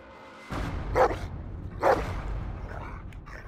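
A dog barks twice in quick succession, loud and close, during a tow job, over a steady low rumble of background noise.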